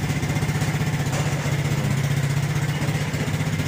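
Suzuki Smash 115cc motorcycle engine running steadily right after a kickstart, a close, even putter with a fast regular pulse and no voices.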